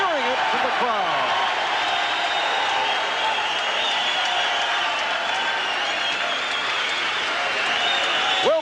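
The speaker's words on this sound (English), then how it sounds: "Harry Arroyo fighting in his hometown and hearing it from the crowd." A hometown crowd roars loudly and steadily at a boxing match in Youngstown, Ohio, with sustained cheering and applause filling the arena from start to finish.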